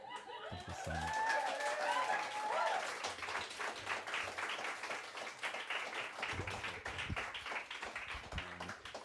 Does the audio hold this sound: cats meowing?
no